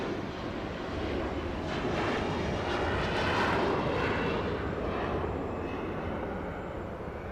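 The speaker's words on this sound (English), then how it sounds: "A175 beginning its takeoff roll out of here" An airliner begins its takeoff roll at Los Angeles airport, a broad, continuous jet roar heard from a distance that swells slightly and then holds steady.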